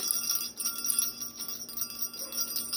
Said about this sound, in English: Very nice tone, good size bell.